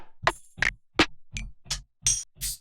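A lo-fi drum beat built from stock sampler kit sounds, with seven evenly spaced hits combining low kick thumps and crisp snare or hat snaps in a steady, relaxed groove, alone with no talking.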